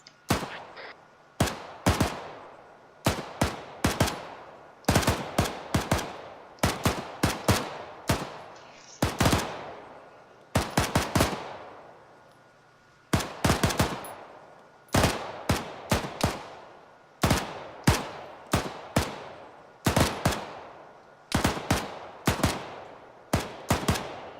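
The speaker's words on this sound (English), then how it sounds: "You are free to use your PSOs to shoot at stuff now" Rifles fitted with PSO scopes fire repeated sharp, loud shots at a range, singles and quick clusters spread irregularly over the whole stretch, each with a short ringing decay.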